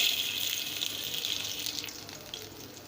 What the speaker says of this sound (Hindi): अब हम इसमें बारीक कटी हुई अदरक डाल देंगे।